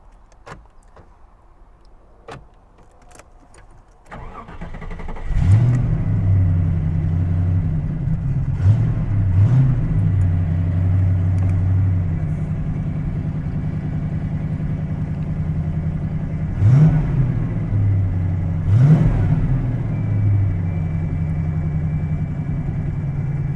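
A 1995 TVR Griffith 500 sports car engine cranks and catches, then settles into a loud, rumbling idle, with a few sharp revs blipping up over the steady drone.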